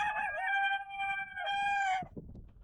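A rooster crows loudly and close by in one long, harmonic call with a rising second part, followed by faint scuffling.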